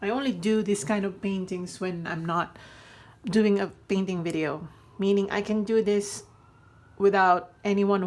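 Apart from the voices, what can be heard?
No everyday noise stands out behind the speech.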